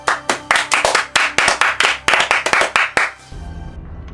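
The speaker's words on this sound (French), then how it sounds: "on peut vous applaudir." A small audience claps in sharp, distinct, uneven bursts for about three seconds, fairly close and loud, then it stops abruptly, leaving a low hum of room noise.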